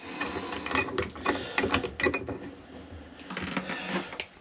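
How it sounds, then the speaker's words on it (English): Small grub screw being tightened by hand into a motorhome mixer tap cartridge, a run of close, light ratcheting clicks and metallic fiddling in short bursts, with no talk. "And then we'll just tighten the grub screw which is inside it."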